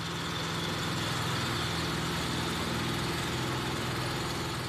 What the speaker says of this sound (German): Milingas Trecker ist eine echte Alternative.